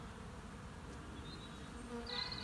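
Honey bees from a busy hive of seven frames hum in a dense, steady drone, with a few individual buzzes rising above it close by and no talking.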